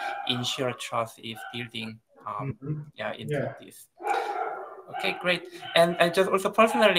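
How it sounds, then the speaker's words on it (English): Dogs bark in the background of an online meeting about agricultural innovation, with short barks scattered under a person's continuous close speech throughout. "Sorry for my dogs barking behind me."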